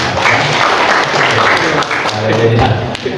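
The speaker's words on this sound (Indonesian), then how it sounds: "Kalau tepuk tangan dulu buat Tuhan kita singkat" A church congregation applauding, loud continuous clapping from many people with a few thumps, a voice occasionally audible beneath it.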